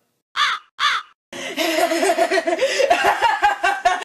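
Two sharp caws ring out, then a longer burst of raspy cawing and squawking follows, close and loud with no talking.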